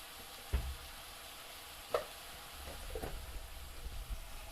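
Local chicken curry being stirred in a pan, a few sharp scrapes and clatters of the spoon over a low, steady sizzle of frying.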